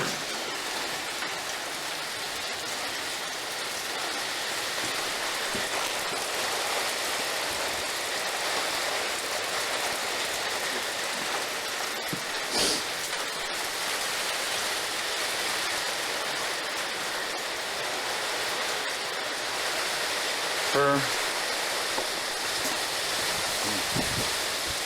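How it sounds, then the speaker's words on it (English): Steady rain falling outdoors, a continuous even hiss of drops with a couple of brief knocks and clatters partway through, no voices. "It's raining."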